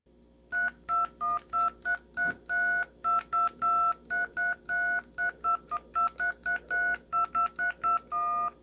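A Radio Shack tone dialer plays Mary Had a Little Lamb in DTMF telephone tones: a quick, evenly spaced run of short electronic beeps with changing pitches, clear and alone.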